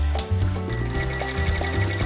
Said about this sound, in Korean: 재봉틀 소리가 요란한데요.